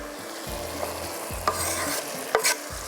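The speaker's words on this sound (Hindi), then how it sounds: "इसमें जाएंगी हरी मिर्चें" Green chillies go into bottle gourd bhujia frying in a pan, with a steady sizzle broken by a few sharp stirring scrapes and a louder crackle burst near the end, with no talk.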